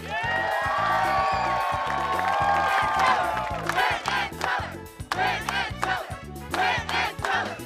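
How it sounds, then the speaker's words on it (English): A studio audience at a Penn & Teller magic show cheers, screams and whoops loudly, first as a sustained roar of voices, then in broken bursts of shouting and clapping that rise and fall. "you are applauding like you've never applauded before"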